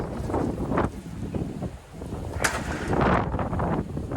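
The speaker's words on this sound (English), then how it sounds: "for you to understand just how crazy the wind was" Strong gusting wind buffets the microphone outdoors at a tennis court, a continuous loud rumbling roar that surges and dips with heavier blasts, with no talking.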